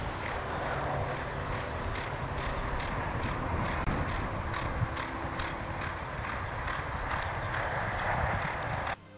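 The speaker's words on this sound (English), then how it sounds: "A gentle walk around a grassy circuit is followed by a canter and a gallop." Horses' hooves clip-clop steadily on a walk around a grassy circuit near stables in Arundel, Sussex, with an even rhythm of many soft thuds, moderately close and with no talk.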